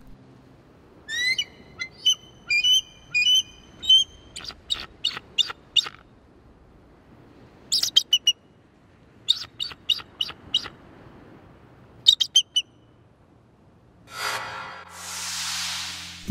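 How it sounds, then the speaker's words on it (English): Bald eagle giving its thin, high chittering call: repeated short bursts of piping whistles and rapid chirps in several clusters, fairly clear and alone, ending in a brief rush of noise. "This is what the bald eagle unfortunately sounds like."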